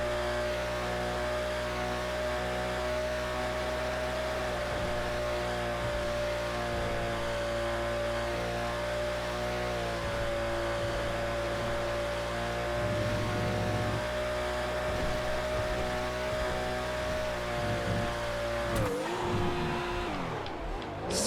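Race car engine in the GTA FiveM racing game holds a loud, steady drone with a constant pitch for most of the run, shifts briefly partway through, then cuts off abruptly near the end.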